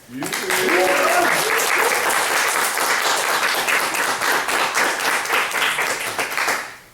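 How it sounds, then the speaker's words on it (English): An audience at a literary reading breaks into loud, sustained applause and clapping that lasts several seconds before fading out, with a brief voice at the start. "Let's give it up for Crisosto Apache."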